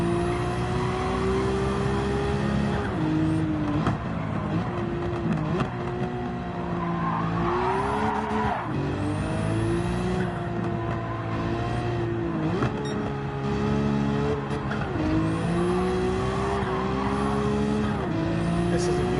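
A race car roars through a driving video game at full throttle, engine pitch rising and falling through gear changes, with tires squealing and skidding through turns over a continuous loud drone.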